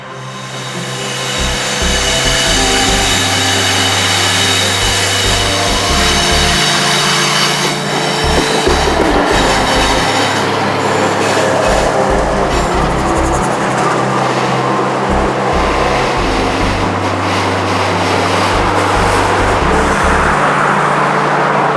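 A loud, heavy CSX freight train carrying auto-racks rolls by continuously, with a low droning engine and steady rumbling wheels holding for over twenty seconds.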